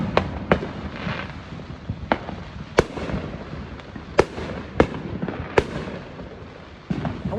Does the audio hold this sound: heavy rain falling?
no